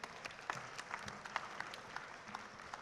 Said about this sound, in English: keep the round of applause going one more time for our Power Rangers